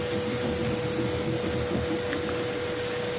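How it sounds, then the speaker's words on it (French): Vacuum cleaner sucking up fine black dust in a workshop, a loud, constant roaring hiss with a steady motor whine, running alone without talk. "il vous montre qu'il a un bon aspirateur"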